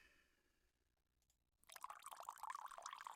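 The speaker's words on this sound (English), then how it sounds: "Some coffee being poured in." Coffee poured into a cup, a close, steady liquid splash that starts abruptly after a quiet pause and runs on without talk.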